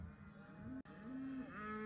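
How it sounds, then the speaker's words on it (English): Cattle moo in long, low, drawn-out calls, several in a row, loud and close with no talking. "All the cows are leaving your cars, Gordon, Henry puffed."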